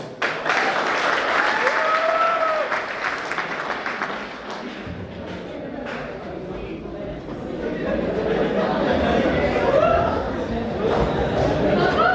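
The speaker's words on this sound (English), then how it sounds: "So let's welcome them with a huge round of applause." A college student audience at an IT tech event claps in a sustained, loud round of applause, with crowd chatter and voices mixed in before it fades and swells again.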